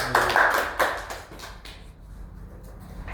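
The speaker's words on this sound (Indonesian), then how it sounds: "Berikan tepuk tangan buat Alfredo" Brief scattered clapping from a classroom of students applauding a classmate named Alfredo after a quiz answer. The claps burst out together, then thin and fade within a couple of seconds.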